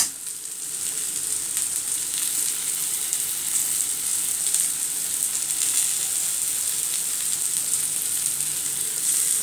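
Boiled potato cakes fry in a pan with a steady, close, even sizzle of hot oil that holds unbroken throughout, with no talking over it.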